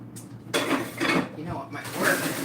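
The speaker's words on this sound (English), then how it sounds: "Just stirring, guys. Cooling it off." A spoon scrapes and clinks against a bowl while stirring a homemade infused pain cream mixture, several uneven strokes close by.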